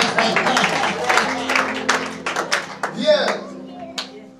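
A congregation at a church service claps in a quick, uneven rhythm, a run of sharp close hand claps under a loud voice that talks over them.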